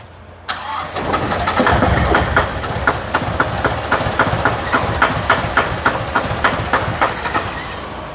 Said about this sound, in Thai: นี่คืออาการของรถลูกสูบแตก